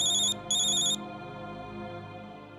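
A telephone ringtone chirps in two short bright bursts, fairly close and clear, over a low steady background hum in a household room, then stops.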